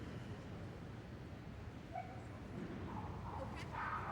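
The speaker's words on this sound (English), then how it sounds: "she's working Zaz, a Sheltie, 5 years of age, agility champion Obey." Shetland sheepdog barking and yipping during a Crufts agility championship run, short bursts near the end over a loud, steady arena crowd and commentary.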